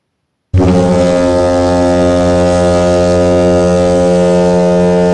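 A loud, deep ship horn blares in one long continuous blast, starting abruptly and holding steady throughout.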